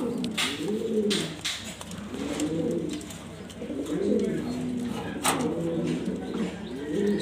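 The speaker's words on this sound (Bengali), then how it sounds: "এখানে আছে শার্টিং কবুতর" Satin pigeons coo close by in repeated rolling, throaty phrases that rise and fall at a steady rhythm, with occasional sharper bird notes over the top.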